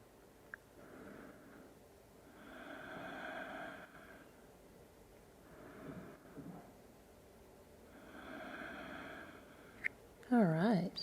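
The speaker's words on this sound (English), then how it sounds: "And listen to the breath" Slow, deliberate breathing during a yoga strength class: soft, close breaths drawn in and let out over several long cycles, with a short burst of voice right at the end.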